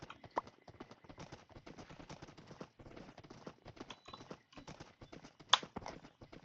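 Horse hooves clip-clop in the Minecraft video game, a fast run of light, even clicks with brief pauses, and a louder click partway through.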